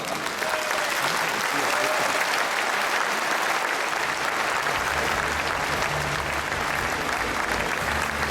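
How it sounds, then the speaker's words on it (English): Steady, sustained applause from a large audience at the closing ceremony of an international convention in Sydney, a dense even wash of clapping with a low hum entering midway, no voices. "Please, give a big applause"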